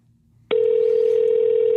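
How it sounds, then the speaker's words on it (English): A telephone ringback tone sounds while placing a call, starting abruptly after a quiet moment and holding as a loud, steady continuous tone to the end. "Her ringtone's louder than Zach's."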